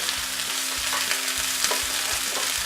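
Garlic, ginger and green peas stir-frying in a pan for tomato and pea pickle, a dense, loud, continuous sizzle with a regular low rhythmic stirring or scraping pulse, no talking.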